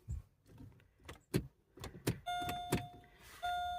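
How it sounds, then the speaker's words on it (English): Pontiac G6 interior waking up as the key goes into the ignition: a series of clicks and relay thunks, then a steady electronic chime tone joins, close and moderately loud with no talk. "you put the key in the ignition here. And you can hear everything comes alive in here"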